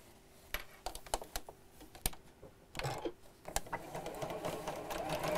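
A sewing machine stitches a straight seam along the edge of two fabric pieces joined by a zip, starting with separate close clicks and then running into a steady mechanical whir, without speech.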